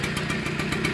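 A 1980 Kawasaki KV75 motorcycle engine idles in neutral nearby, giving a loud, steady, buzzing putter that holds even throughout the moment.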